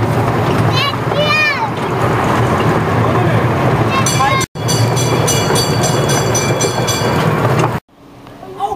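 Ride-on train at an aquarium, a steady loud rumble with clickety-clack rolling noise that carries through most of the stretch and cuts out briefly twice, with children and adults chattering over it and some high squealing whistles.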